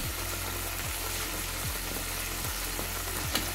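Cabbage dish for a Bengali vegetarian Maharani recipe, sweetened with sugar, is stirred in a hot pan: a steady, close frying sizzle with spatula scrapes sweeping through about every 0.8 seconds.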